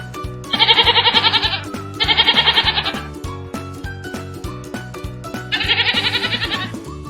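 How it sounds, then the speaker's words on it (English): A goat bleats in three loud, wavering calls, each about a second long, set against a steady rhythmic music bed. "Goat."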